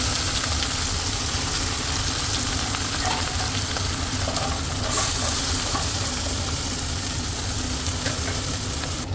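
Guar beans tipped into a pan of garlic already fried red, giving a steady, loud frying sizzle with faint stirring scrapes throughout, no voices.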